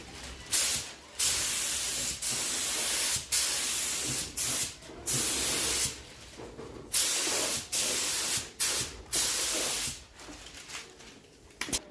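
Repeated bursts of spray paint laid on as a heavier, wet second coat over a patchy first layer, each hissing pass about a second long with short gaps between, close and steady with no talking.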